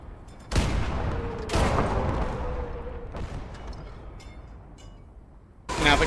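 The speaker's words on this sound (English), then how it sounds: "howitzers" Howitzer artillery fire in the video game Gates of Hell: three heavy booming blasts with long rumbling tails spaced a second or so apart, then a fourth blast at the end, loud and close.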